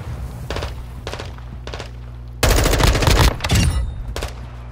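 Video-game shotgun fire cracks out in a series of sharp, loud blasts, a few spaced shots then a heavy cluster of rapid booming reports, with a steady low hum beneath.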